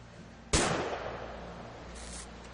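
A single sharp gunshot in a video game cracks out loud and close, then trails into a fading echo, followed by a softer brief hiss.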